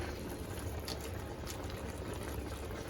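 A pot of goat adobo bubbles at a steady rolling boil, a constant hissing, gurgling wash of sound with no talking over it.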